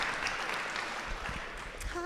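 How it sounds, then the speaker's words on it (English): An audience at a civic leadership event briefly applauds a doctor stepping up to speak, soft, fairly distant clapping that fades within about two seconds as a voice begins. "let's give her a big round of applause"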